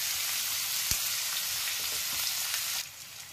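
Chopped onions frying in a pan for a jackfruit curry, a steady hiss of sizzling oil running throughout with one sharp tap near the start and the sizzle dropping slightly toward the end.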